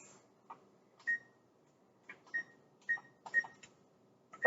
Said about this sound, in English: let me set my timer here